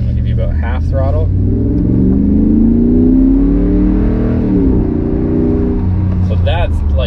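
Engine of a Dodge, Jeep, Ram or Chrysler vehicle fitted with an aftermarket throttle booster, accelerating at roughly half throttle, its droning note climbing steadily in pitch, loud and close, then easing off near the end.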